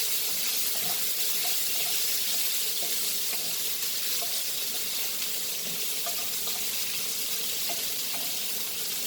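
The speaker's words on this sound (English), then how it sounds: "And fry this nicely." Goan-style prawn chilli fry cooking on a slow fire in a pan, giving a steady, even hiss of frying with faint watery crackle throughout, no voices.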